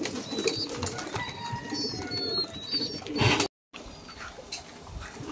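Pigeons coo softly and repeatedly, close by, over a steady background of other bird calls, with a brief dropout partway through.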